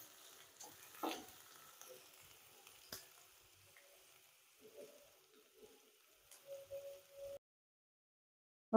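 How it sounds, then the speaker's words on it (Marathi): Chopped onion sautéing in oil on a pan for a mushroom and baby corn tava bhaji, a soft steady sizzle with occasional stirring scrapes and clinks, fairly faint and close, ending in brief silence. "कांदा छान थोडासा परतून घ्यायचा मऊ होईपर्यंत"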